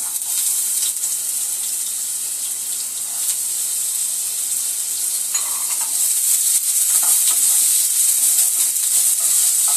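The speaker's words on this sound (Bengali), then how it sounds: "এবার এই যে কেটে রাখা আলুটা ধুয়ে নিয়েছিলাম, এটা দিয়ে দেব তেলের মধ্যে।" Diced, washed potatoes sizzling in hot oil with black cumin for a chicken singara filling, a steady close hiss and crackle throughout with faint stirring, no voices.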